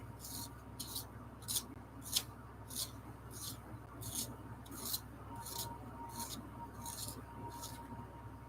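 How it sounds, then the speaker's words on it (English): A brown colored pencil being sharpened, giving a steady series of short scraping rasps about every 0.7 seconds at close range, each stroke alike, over a quiet room. "Just gonna give it a bit of a sharpen"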